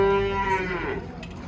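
Cattle moo at a livestock bazaar in Kyzylorda: one long, loud, close bellow with a steady drawn-out tone that tapers off, over a low murmur of market background.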